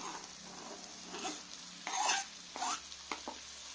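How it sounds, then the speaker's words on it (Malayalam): Fried chicken pieces are stirred with onions in a pan for Vadakara-style erachi chor, giving a soft background sizzle broken by several quick scraping stirs, one louder rasp near the middle, with no talk. "ഒന്ന് ചെറുതാക്കിയിട്ട് ഈ ഉള്ളിൻ്റെ കൂടെ ഇട്ട് കൊടുക്കാം"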